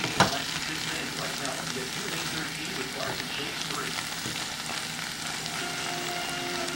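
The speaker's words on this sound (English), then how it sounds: "So I'll let this get to the frying point." Steady, dense sizzling and crackling of onions and peppers frying in a pan, continuous and close, with a brief clatter at the start.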